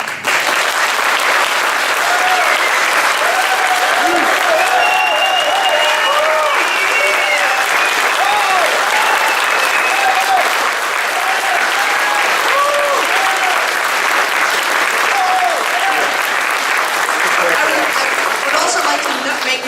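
A large debate audience applauds steadily for the whole stretch, a dense even wash of clapping from many hands at a 2014 Zeldin–Bishop candidates' debate, with no voices breaking through.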